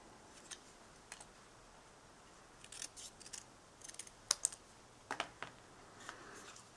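Scissors snipping a piece of paper for a punch-art fox craft, a few short quiet cuts spaced irregularly, close and alone with no talk.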